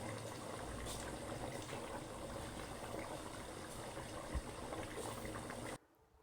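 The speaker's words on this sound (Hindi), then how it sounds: "इधर देखें चावल बॉईल हो रहे हैं।" Rice boils in a pot of water for chicken biryani, a faint steady bubbling and simmering hiss that runs throughout and then cuts off abruptly near the end.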